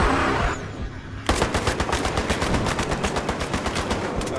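Battlefield Hardline game gunfire: after a brief lull, a loud, close automatic weapon opens up in a fast, sustained rattling burst.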